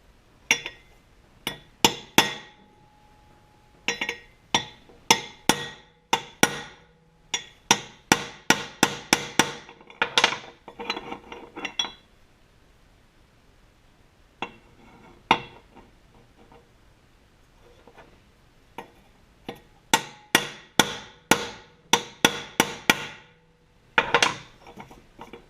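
Sharp metallic hammer strikes drive a bearing into a 1966 Ford Galaxie 500 alternator, landing in irregular bursts of quick taps with short pauses over about 25 seconds, close and fairly loud.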